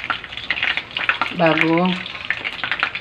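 Chicken pieces getting a second fry in hot oil, a loud continuous sizzle with stirring noises, while a voice speaks briefly over it.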